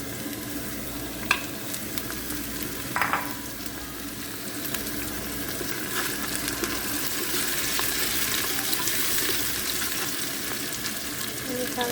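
Onions frying with meat in a pan give a steady hiss and sizzle throughout, with a couple of brief clinks of stirring near the start and no clear talk.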